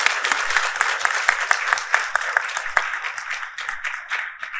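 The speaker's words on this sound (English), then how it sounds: "can you please give the three speakers a big round of applause" An audience at a CEO international forum session claps for three panel speakers, a steady, dense round of applause with sharp individual claps, fairly loud and close, without speech.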